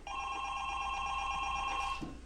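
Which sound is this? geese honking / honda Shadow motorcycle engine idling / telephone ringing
telephone ringing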